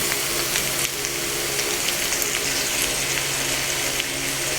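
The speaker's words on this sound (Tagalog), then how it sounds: "nilalagyan na din po natin yung ating green peas" Menudo cooks in a pan as green peas are added, giving a steady, close, bright sizzle of frying with faint stirring clicks throughout and no voices.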